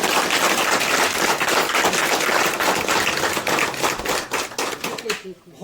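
Lively audience applause at a college NSS volunteers' Beti Bachao Beti Padhao campaign event, a dense crackle of many hands clapping steadily for several seconds before cutting off abruptly.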